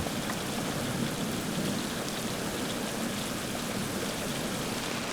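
Heavy, steady torrential downpour in Albania, a dense continuous hiss with no pauses, loud and close.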